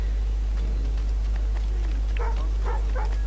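A dog barks in Assassin's Creed Rogue, giving a few short yips and woofs toward the end, faint and fairly distant over steady low game ambience.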